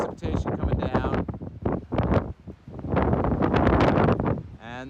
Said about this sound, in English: winds gusting over probably 40 miles an hour